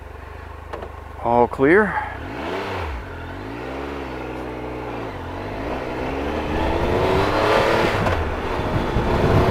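A 2015 Triumph Tiger Explorer 1200 motorcycle on knobby tires cranks over with the clutch pulled in and fires up. The engine idles, rises and falls in pitch, then builds into a steadily climbing drone as the bike pulls away. A voice speaks briefly early on.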